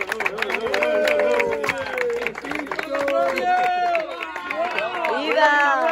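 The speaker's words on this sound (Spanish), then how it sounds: "Un aplauso." Wedding ceremony guests clap and cheer while several voices talk and call out over the applause, a lively, busy mix of clapping and excited chatter throughout.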